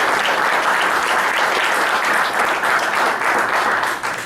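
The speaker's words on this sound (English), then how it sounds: "So how about a nice round of applause for that piece first?" Steady, loud applause from an audience at a town council meeting, broad dense clapping sustained without a break for several seconds and no talk over it.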